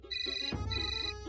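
A phone ringtone plays a short electronic melody of bright, steady tones at moderate volume, with no voices over it.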